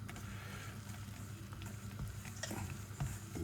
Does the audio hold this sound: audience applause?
no